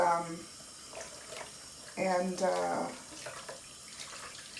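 Tap water runs steadily over a wig ponytail being rinsed, a constant watery rush sitting under a person talking throughout.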